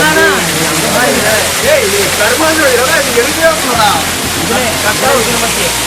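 Rushing water roars continuously at Ramiyanahalli Falls, loud and close, while a voice talks over it in Tamil.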